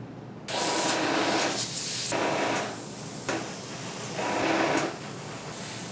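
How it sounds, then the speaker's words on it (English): An airbrush hisses in several bursts of thinned paint, spraying a replica video-game weapon prop, steady and close, with brief pauses between passes. "thin it down, and spray it with my airbrush."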